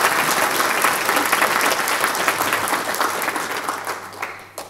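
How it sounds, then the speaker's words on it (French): Audience applause at the official inauguration of Lerchenberg, a dense, loud burst of many hands that holds steady, then thins and fades near the end. "Je crois qu'on peut les applaudir."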